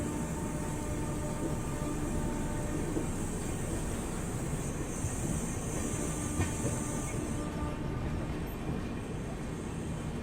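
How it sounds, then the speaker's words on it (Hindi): The Purushottam Express passenger train departs Puri railway station with a steady, loud rumble and hiss of rolling stock, continuous throughout with faint clicking and no voices. "9:55 शार्प डिपार्चर अपना पूरी रेलवे स्टेशन से। पूरी स्टेशन से डिपार्चर आप देख लीजिए"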